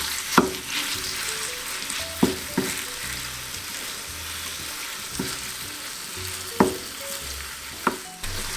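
Food browning in a frying pan for Jamaican stuffed dumplings gives a steady broadband sizzle, broken by several sharp clinks and scrapes of stirring at irregular intervals, with no talking.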